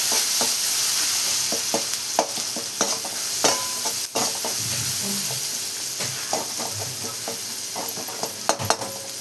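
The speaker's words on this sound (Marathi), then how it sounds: "मीठ टाकल्याच्या नंतर आपण मस्त मिक्स करून घेऊ" Cabbage with turmeric and salt is stirred in a hot pan, giving scraping spoon strokes against the metal over a constant sizzling hiss, with a voice speaking faintly underneath.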